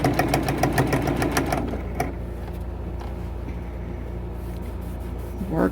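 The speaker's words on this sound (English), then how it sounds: "I'm going to just lightly pull that up over, just over the seam, and come down and sew just like this" A sewing machine stitches quilt binding folded over a seam on a T-shirt quilt, a fast steady needle rattle for about two seconds, then stopping to a quiet low hum before a brief restart at the end.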